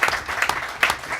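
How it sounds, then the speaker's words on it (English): A crowd at a talk event applauds with steady, dense clapping throughout the short moment, fairly close and continuous. "Give him a big round of applause."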